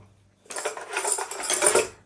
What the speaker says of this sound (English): There's a little castanet.